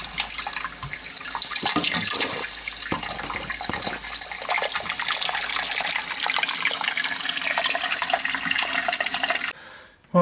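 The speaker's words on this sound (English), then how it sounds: "Now we turn the water back on." A toilet cistern refills after the water supply is turned back on, a loud, steady hiss and rush of water that runs nearly continuously before cutting off abruptly near the end.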